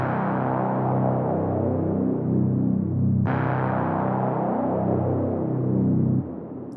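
A deep mid bass synth drenched in reverb plays a sustained, pulsing tone that swells large, cuts briefly midway, resumes and then stops near the end, loud and alone.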